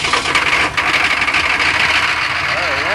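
A diesel truck engine, glow plugs warmed on a cold 5 °C morning, cranks and catches into a loud, rough, broadband clatter that settles toward an idle, heard up close with people talking over it.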